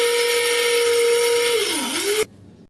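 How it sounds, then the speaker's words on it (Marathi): A kitchen mixer grinder pulverises biscuit pieces into fine powder for modak, a loud steady motor whine that sags in pitch as the load shifts, then cuts off abruptly near the end, leaving near silence. "बिस्किट्स आहेत त्याचे तुकडे करून आपल्याला ते मिक्सरला बारीक करून घ्यायचं आहे"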